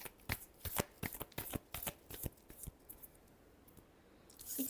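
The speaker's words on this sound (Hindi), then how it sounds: "last shuffle," Tarot cards are shuffled by hand in a quick run of crisp, close riffling flicks, followed by a quieter pause with a soft rustle near the end.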